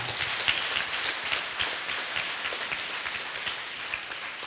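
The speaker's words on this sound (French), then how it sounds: "Bravo, applaudissez-la." Steady, dense clapping from a congregation at a Sunday church service broadcast, a continuous rattle of many hands lasting throughout without voices on top.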